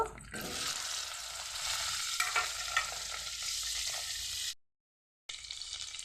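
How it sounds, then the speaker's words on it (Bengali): Potatoes fry in oil in a wok with a steady, dense sizzle and a faint stirring scrape. The sound cuts out briefly near the end, then resumes. "কড়াতে তেল দিয়ে দিয়েছি। এখন আলুগুলি ভেজে নেব।"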